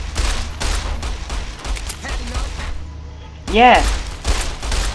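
Gunfire in Fallout New Vegas, loud rapid bursts of shots in quick succession with a brief lull, mixed with game character voices and a short shout.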